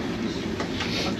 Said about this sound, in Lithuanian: Jau traukiniai.